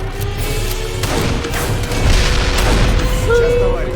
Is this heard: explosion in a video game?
yes